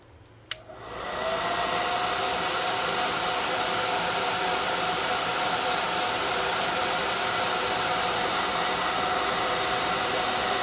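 A hair dryer set on low blows steadily to dry paint on a painted city backdrop, a brief click starting it before the even, close airflow hiss holds unchanged for about ten seconds with no talk.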